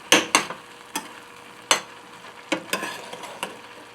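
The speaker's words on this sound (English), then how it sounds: "This has been simmering now for about 10 minutes" Apples simmer in a pot on the stove, giving soft scattered pops and bubbling bursts at irregular intervals over a low background hiss.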